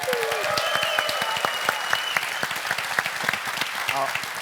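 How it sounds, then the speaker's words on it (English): An audience at a security conference talk applauds loudly with clapping and scattered whistles, a steady wash of hands with sharp whistle bursts on top. "Please applaud, and you may also whistle."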